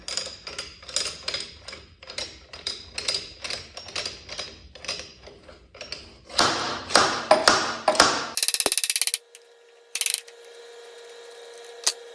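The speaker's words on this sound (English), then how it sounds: "I've got a slide hammer here." A slide hammer strikes metal on a John Deere 450 dozer winch, sharp impacts repeating in a quick, steady rhythm, then louder and harsher for a few strikes before a ringing clank and a faint lingering hum.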